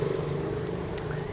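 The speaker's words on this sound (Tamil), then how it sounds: "உங்களுக்காக தான் வண்டியை ஸ்டார்ட் பண்ணி காட்டுறேன், பாருங்கள்." A Yamaha Ray ZR hybrid scooter engine runs with a steady, close, low droning hum, a continuous even idle with no other sounds.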